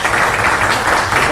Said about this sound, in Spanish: Bueno, pido un aplauso para el profesor Germán